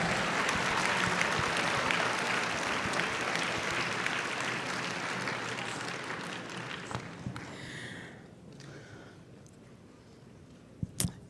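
Audience applause at the 2023 USAD Nationals speech event, a long sustained round of dense clapping that gradually thins and fades out toward the end, with a few louder isolated claps at the close.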